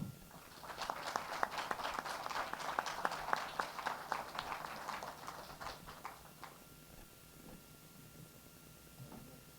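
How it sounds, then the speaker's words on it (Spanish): Applause from a congress audience welcoming a speaker, a dense burst of clapping that swells over the first seconds and then thins out, ending in scattered faint claps and room noise. "para quien pido un fuerte aplauso"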